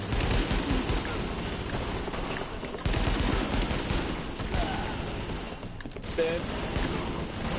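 Bursts of rapid gunfire from a gun in The Division beta fill the scene, near and loud and nearly continuous, with a brief voice speaking among the shots.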